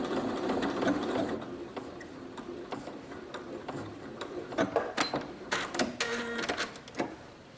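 A sewing machine runs close by, stitching a fabric scrunchie closed in quick rattling bursts with short pauses and light mechanical clicks.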